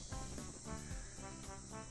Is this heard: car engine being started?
no